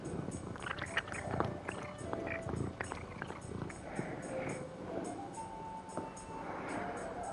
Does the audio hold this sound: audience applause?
no